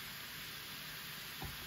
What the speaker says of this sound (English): So I season my crawfish the same way and let them saute down just a little bit.